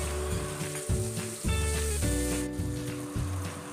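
Onions sizzle in hot oil with bay leaf, cardamom and cumin as the base for an Assamese masala fish gravy. A loud, steady frying hiss is broken by repeated scraping strokes from stirring in the pan.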